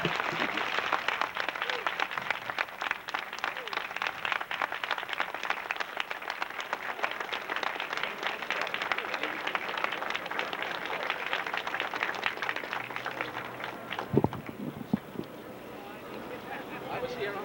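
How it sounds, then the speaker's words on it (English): An audience at the 1989 Medgar Evers College graduation applauds after Percy Sutton's speech, dense sustained clapping filling a large hall for many seconds before thinning near the end. "Let's applaud Mr. Sutton again."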